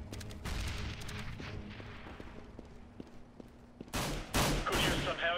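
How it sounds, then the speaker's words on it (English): Gunfire and explosive bursts in a Counter-Strike: Global Offensive match after a grenade is thrown, a steady mix of shots ending in several loud, sharp blasts close by. "Grenade out."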